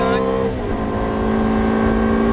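Ferrari F430 engine accelerating hard on a race track during a driving course, a loud steady roar with rising harmonic tones after a brief gear change, close and continuous.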